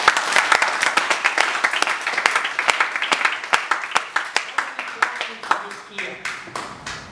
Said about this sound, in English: So you can clap, please.